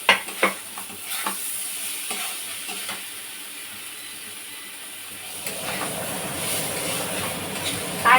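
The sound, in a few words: frying brinjal (eggplant) in a pan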